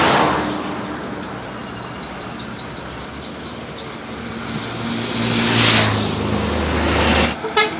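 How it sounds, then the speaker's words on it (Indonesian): A Rapi intercity bus drives along a road in Indonesia, its engine droning steadily with a rising roar as it passes close, ending in a brief horn toot. "Ini dia bus Rapi Pin Arizona."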